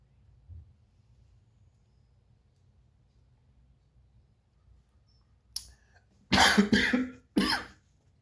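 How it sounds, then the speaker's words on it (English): Near-silence gives way to a sharp sound, then a cluster of loud coughs close to the microphone, a short series with a final cough after a pause. "right when I start smoking, some a couple of coughs here and there"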